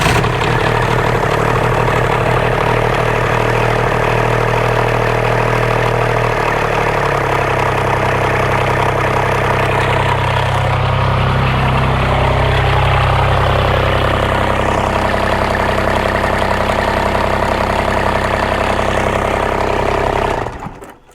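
A Kubota K008 mini excavator diesel engine cranks and catches, then settles into a loud, steady, close idle with a low droning hum that runs until it cuts off at the end.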